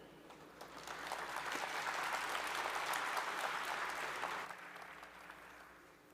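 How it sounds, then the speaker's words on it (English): An audience at the World Knowledge Forum 2022 applauds, the clapping swelling to a full, sustained round and then fading out, with no other sounds over it. "Please welcome them with a big round of applause"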